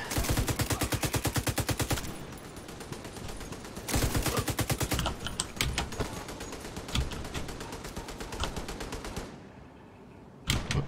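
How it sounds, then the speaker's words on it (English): Automatic gunfire in The Division 2, with rapid machine-gun bursts loud and close, one long burst at the start and another after a pause, then scattered shots and clatter trailing off, with a final short volley. "Who's he shooting at?"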